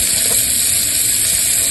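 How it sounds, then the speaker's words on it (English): Steak bites sizzle in a hot skillet, a steady broadband hiss of searing beef that stays loud and even throughout, close up with no talking. "So now it's going to go into my hot skillet"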